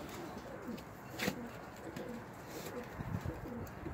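Baby pigeons in a loft give soft, low cooing that carries faintly through steady background noise, with one brief louder burst near the start and no clear talk.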